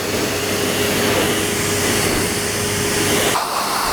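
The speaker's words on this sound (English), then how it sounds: "Using a high velocity dryer will also push out any knots and tangles that are close to the skin." A high velocity dog dryer blows with a loud, steady roar and airy hiss, cutting off abruptly near the end.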